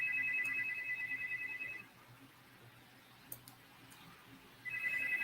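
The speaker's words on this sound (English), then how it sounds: "somebody want to call me right now." A telephone rings indoors with a steady electronic trill, then goes quiet for a few seconds before the next ring starts, faint and some distance away.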